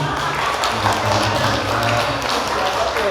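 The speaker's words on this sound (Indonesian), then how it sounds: "Tepuk tangan kali" An audience at a humorous halal bihalal sermon in a hospital hall claps steadily, a dense and fairly loud wash of applause that holds evenly for a few seconds with no voice over it.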